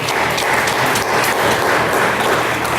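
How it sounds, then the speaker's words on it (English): Dense, steady applause from a crowd at a Board of Education honors and recognitions ceremony, loud and continuous throughout with a noisy, clattering texture. "Let's give him a round of applause."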